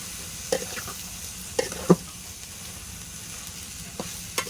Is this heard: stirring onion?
yes